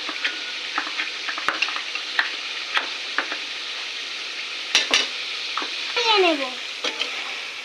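Ground spice paste sizzles steadily in a pan for beef curry while a spoon stirs it, giving scattered scraping clicks and a brief louder burst of stirring near the end.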